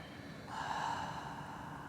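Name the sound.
deep breath exhaled through the nose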